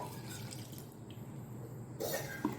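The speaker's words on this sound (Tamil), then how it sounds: "இப்போ வந்து மிக்சியை கழுவி கொஞ்சோண்டு தண்ணி சேர்த்துக்கலாம்" A little water splashes and swirls in a mixer jar being rinsed in a kitchen, soft trickling and dripping sounds close by, getting briefly louder near the end.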